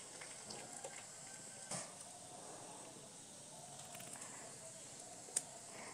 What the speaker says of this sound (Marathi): लसूण आणि जिरे चांगले कडकड असा आवाज आलाय